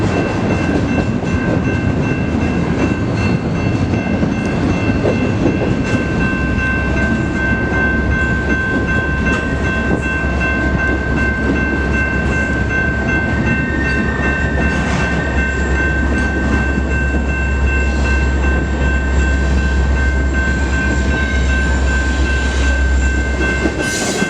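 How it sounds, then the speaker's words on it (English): A grain freight train rolls over a bridge with a steady, loud rumble and rhythmic wheel clatter on the rails, a constant roar that holds for the whole stretch and sits under a faint high tone, with no voices. "While that intermodal was going under the bridge, a grainer went over."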